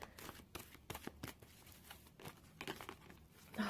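A deck of tarot cards is shuffled close up in quiet surroundings, making short papery riffles and crinkly bursts in an uneven rhythm, with cards slipping out.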